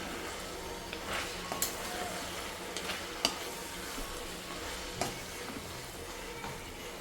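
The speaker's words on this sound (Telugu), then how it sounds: "మనం ఆల్రెడీ చికెన్ వేసి ఆల్రెడీ ఫ్రై చేస్తున్నాం కదా" Chicken frying in a pan with masala stirred through it, producing a steady soft sizzle broken by occasional scraping clicks from the spoon, close and moderately quiet with no talking.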